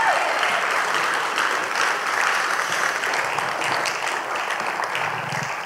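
Audience applause at a live conference talk event on stage, steady dense clapping from a large crowd filling the whole stretch at a constant loud level.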